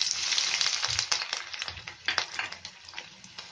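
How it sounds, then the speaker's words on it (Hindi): Onion, capsicum and tomato fry in a pan for a gravy, giving a steady broadband sizzle with small crackles and light stirring taps close by. "तो इसे हम फ्राई करेंगे"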